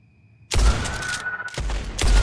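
Gunshots from a Winchester rifle in the first-person western shooter game Blood West, several loud blasts in quick succession with booming low thuds and a short pause between volleys.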